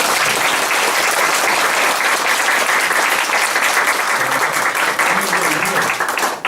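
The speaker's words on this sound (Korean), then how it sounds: "박수로" Sustained audience applause after a lecture, loud, dense and steady for several seconds, tapering slightly at the very end with no talk over it.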